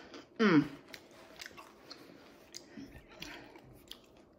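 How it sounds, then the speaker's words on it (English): A single loud crunchy bite of crusty focaccia bread, hot from the oven, up close, followed by soft quiet chewing sounds. "Did you hear that crunch?"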